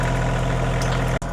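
The engine of a Fuelwood Kindlet 200 wood splitter idles with a loud, steady low hum and drone up close, briefly cut by a sharp dropout near the end.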